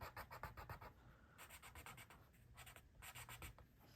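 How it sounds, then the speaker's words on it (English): A pen scratches and rubs across paper, coloring over colored pencil in quick bursts of short strokes, faint and close with pauses between passes. "let me get another pen here and I can show you coloring"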